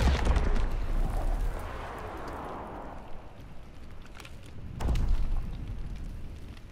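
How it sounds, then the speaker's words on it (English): Enemy artillery shells explode in a multiplayer war video game, a long rumbling blast fading over several seconds followed by a second heavy boom near the five-second mark, with no voices. "Incoming enemy artillery! Get to cover!"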